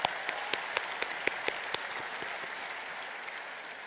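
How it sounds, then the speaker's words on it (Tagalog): A church congregation applauds during a Mass homily, starting with a handful of distinct sharp claps that quickly merge into a soft, fairly distant wash of clapping that gradually fades. "Pumalakpak tayo gaya ng pagmamahal sa Poong Nazareno"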